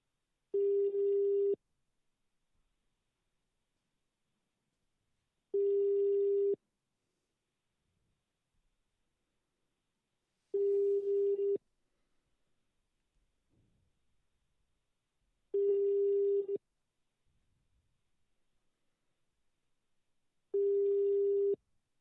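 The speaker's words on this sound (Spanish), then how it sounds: "vamos a intentar llamar a Benjamín otra vez en vivo" Five evenly spaced telephone tones, each about a second long with roughly four-second gaps, repeat as a live call fails to connect; clear and steady with silence between beeps.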